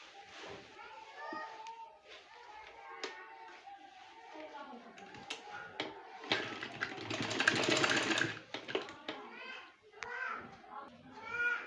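A sewing machine stitches cut work on a trouser, a close rapid mechanical whirring burst in the middle, while voices, including children's, talk and play throughout.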